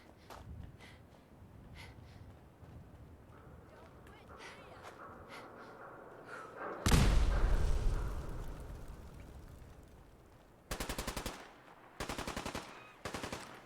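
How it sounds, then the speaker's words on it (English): Gunfire in the Fallout 4 video game, several short rapid bursts of shots near the end, loud and close, following a louder blast and quiet background game sounds with some voices. "Somebody's shooting a gun."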